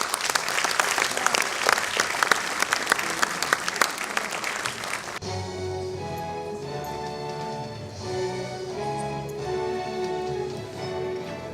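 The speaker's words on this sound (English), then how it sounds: "Let's welcome them on stage with a round of applause." An audience at an anniversary celebration claps for staff in a brisk burst of applause that cuts off after about five seconds, giving way to steady music.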